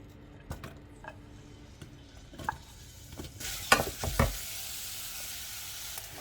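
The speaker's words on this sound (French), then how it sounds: "J'ai mis un petit peu d'huile tournesol, puis je fais revenir oignons et l'ail." Onions and garlic frying in a little sunflower oil, with a steady sizzle, occasional utensil taps and a louder burst of hiss and clatter partway through as they are stirred, close by with no talking.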